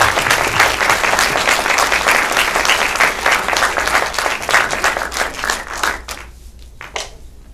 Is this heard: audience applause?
yes